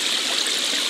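A water jet sprays in the Wickie game, a steady, bright hissing rush that stays constant and fairly loud throughout the short moment.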